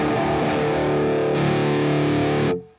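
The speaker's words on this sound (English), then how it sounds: "So the other thing is the fuzz tone" Electric guitar played through a fuzz tone effect pedal, a thick, warm, distorted sustained chord ringing loudly and steadily for over two seconds before being cut off abruptly.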